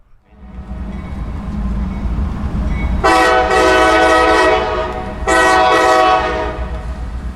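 A freight train rumbles steadily nearby as its horn sounds two loud blasts for a crossing, a long one followed by a shorter one.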